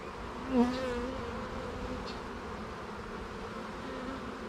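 A swarm of bees buzzes around cracked-open hive boxes in a shop, a steady droning hum with one bee passing close early on, others circling at a moderate distance.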